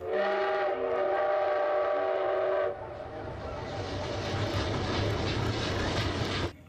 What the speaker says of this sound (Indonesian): Wow, kereta api Thomas and Friend.